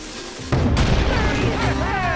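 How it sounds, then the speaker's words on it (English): Cannon fired in the video game Skylanders Spyro's Adventure: a single loud boom bursts in sharply, then a rumbling tail fades with whistling game effects, no talk over it. "Use the action button to fire the cannon."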